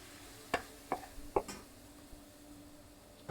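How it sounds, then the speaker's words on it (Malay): A few distinct scraping and clinking strokes of a utensil in a pan, mixing sea bass with soy sauce, spaced irregularly, over a quiet low hum. "So kita gaul bagi sebati."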